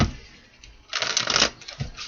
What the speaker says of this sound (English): 2 more shuffles, my guides.